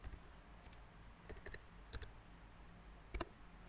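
Keystrokes on a computer keyboard as a command is typed into a command prompt, a few faint scattered clicks in two short bursts over quiet room noise, no talking.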